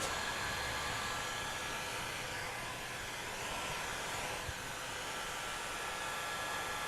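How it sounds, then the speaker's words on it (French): A heat gun warms vinyl wrap film on a car body, giving a steady, even airy hiss of blowing hot air, faint and continuous without pauses or talk. "Je chauffe le vinyle sur la partie haute."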